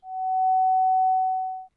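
A pure sine-wave tone, synthesized in JavaScript code, holds one steady mid-pitched note for under two seconds, then cuts off with a brief lower blip at the end.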